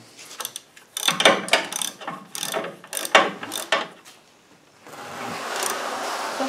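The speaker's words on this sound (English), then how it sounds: "now we can tighten the bolts on the gusset" A ratchet tightens bolts on a steering brace gusset in short bursts of rapid clicking, several quick strokes close up, ending with a steadier mechanical whir.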